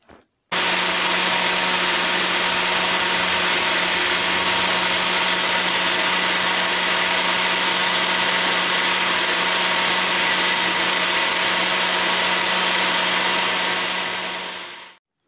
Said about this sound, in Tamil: இந்த மிக்சரை அப்படியே ஒரு மிக்ஸி ஜாரில் போட்டு நல்லா அடித்து எடுத்துக்கலாம்.